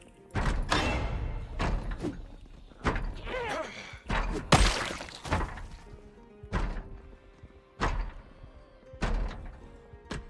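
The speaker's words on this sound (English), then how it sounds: "think that door's banging" Zombies bang on a wooden door in a video game, a series of heavy, irregular thuds spaced a second or two apart, with faint talk in between.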